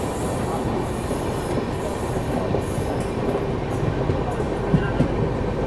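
An Indian train rumbles along on a parallel track, with a Patna Tejas Rajdhani overtaking alongside, heard from inside a carriage as a dense, continuous roar of wheels and rails with faint squeals and occasional clacks.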